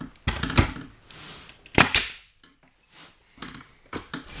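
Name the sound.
nailing boards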